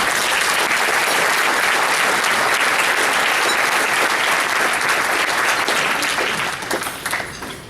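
Audience applause fills the room to welcome Dr. D.T. Ogilvie to the stage at an RIT talk on the Center for Urban Entrepreneurship, a steady dense clapping that holds loud before thinning out near the end.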